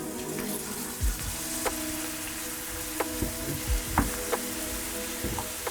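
Tomatoes and vegetables with tomato paste sizzling in a pan for healthy tacos: a steady frying hiss broken by scattered spoon scrapes and clinks, close and fairly quiet, with no voices.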